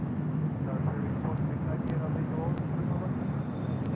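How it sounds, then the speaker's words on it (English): Delta Airlines A320 taking off from runway 24 left at LAX on the north side, a steady, fairly distant roar of jet engines spanning the whole stretch, with a constant broadband rumble and no voices over it. "Taking off on 24 left here on the north side."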